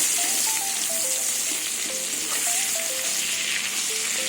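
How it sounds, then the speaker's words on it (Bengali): Eggplant pieces fry in hot oil with a loud, continuous sizzle and crackle, steady throughout, while a faint melody plays in the background. "এই তেলের মধ্যে বেগুনগুলো ভেজে নেব।"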